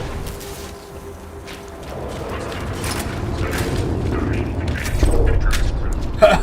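A grenade in Borderlands 2 goes off as a deep, rumbling blast that builds over a few seconds amid game noise, ending in a sharp final crack.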